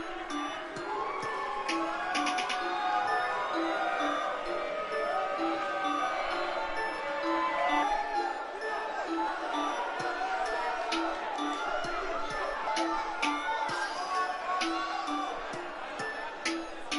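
Wrestling crowd at a JM Promotions show in Providence, a busy, steady wash of cheering and chatter that fills the whole stretch. Scattered sharp pops and claps sit on top of the noise.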